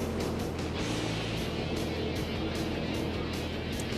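NASCAR race cars at the 2004 Bashas Supermarkets 200 rumble around the track on pace laps, a steady, dense engine drone with no distinct passes standing out.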